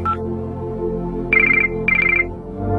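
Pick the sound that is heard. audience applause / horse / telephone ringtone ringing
telephone ringtone ringing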